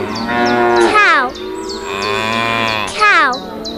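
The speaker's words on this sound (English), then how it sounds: "Cow," A cow moos loudly and close by, two long drawn-out lowing calls with a short pause between them, with no other sound around.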